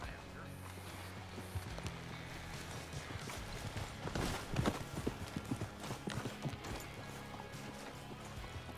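Horse hooves clip-clopping along at a walk in Red Dead Redemption 2, a steady run of soft, close steps, with a voice talking over parts of it.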